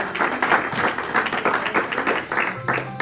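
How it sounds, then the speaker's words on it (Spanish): Applause in a church service, a crowd clapping loudly and continuously in an uneven rhythm, with some voices mixed in beneath the clapping. "Dele ese fuerte aplauso al Señor"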